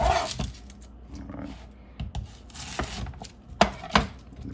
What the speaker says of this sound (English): But you're going to make sure we cut the onion